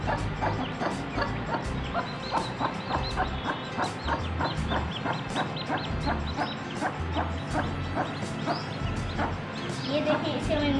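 Newly hatched Aseel chicks peep in a rapid, constant chorus of high chirps, close by, with low background rumble throughout.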